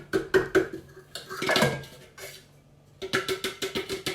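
Macaron mixture tipped from a food processor into a mixing bowl, giving a few clattering knocks and scrapes of bowl and utensils, a brief pause, then a run of rhythmic taps toward the end, close and fairly loud with no talk.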